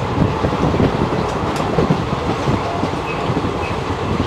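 Inside an AC chair car of the 13113 Hazarduari Express, the train rumbles steadily along the rails with faint clickety-clack and a constant low roar of the moving coach, with no talk.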